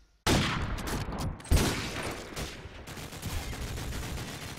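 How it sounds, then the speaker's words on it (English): Rapid bursts of video game gunfire crackle loudly and closely, a sudden volley then another heavy shot, trailing into a continuous rattling fusillade. "You need to stop shooting me from the bin"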